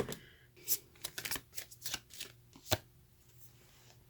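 Tarot cards being shuffled by hand, a quiet run of soft riffling flicks and taps in uneven bursts, close to the microphone and with no talking.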